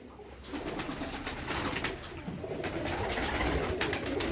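Pigeons coo softly and continuously close by, a dense flock murmuring with rustling and flutters inside their coop, no talking.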